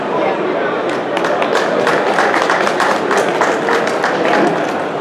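Loud audience applause for veteran panelists at the Boston CannaCon cannabis convention, with dense sustained clapping from a crowd filling the whole stretch.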